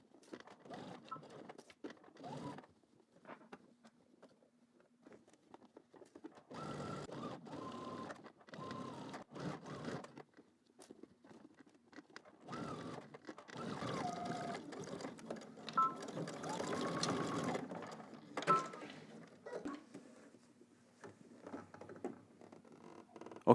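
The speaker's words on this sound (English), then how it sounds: "let's go ahead and head to the machine and we're going to stitch in the ditch" Sewing machine stitching in the ditch along a utility jacket collar, intermittent bursts of rapid mechanical patter separated by pauses, soft and close, with faint handling clicks between runs.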